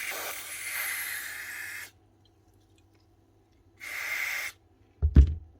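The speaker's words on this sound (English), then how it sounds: "The only reason we want to get inside is for some contact cleaner. Give it a good wash out." Contact cleaner sprayed into an opened power tool, apparently a Senco nail gun, comes as two separate hissing bursts, a longer one and then a shorter one. A brief clunk follows the second burst, and nobody speaks.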